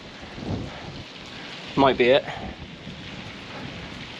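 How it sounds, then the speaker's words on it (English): Heavy torrential rain pours during a bike ride, a steady hiss of rainfall with brief speech over it. "The rain starting to really pump it down just as I started."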